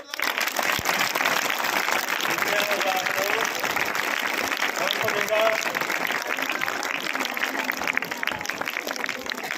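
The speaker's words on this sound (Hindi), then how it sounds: "तालियां बजाओ।" A school audience breaks into applause, dense continuous clapping that stays loud and even throughout, with a few voices faintly audible underneath.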